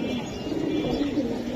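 Hammer pigeon chicks coo softly and steadily, a low murmuring warble held close by with no pause throughout, at a pigeon seller's loft.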